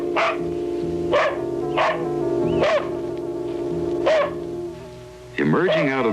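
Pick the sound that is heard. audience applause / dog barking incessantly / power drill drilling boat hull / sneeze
dog barking incessantly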